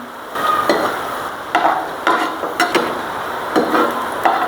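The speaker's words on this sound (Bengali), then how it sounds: "আমি 2-1 মিনিট এইভাবে একটু নাড়াচাড়া করে তুলে নেব" Crispy fried onions (beresta) being stirred in a pan of oil with the heat just switched off, a low sizzle under repeated scraping strokes of a spatula at an uneven rhythm, close and clear, no voices.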